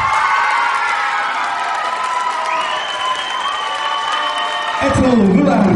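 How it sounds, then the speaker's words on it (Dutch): Audience at a Miss Fashion gala award ceremony breaks into loud applause and cheering, with whoops and high shouts over steady clapping, swelling stronger near the end. "Ethel Lollaert onder luid applaus werd gekozen door een internationale jury van fotografen tot Miss Photogenic"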